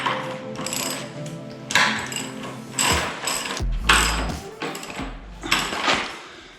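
A ratchet wrench drives screws into a wooden mountain-bike drop ramp in a backyard. Several quick bursts of close, rapid clicking ratchet strokes are separated by short pauses.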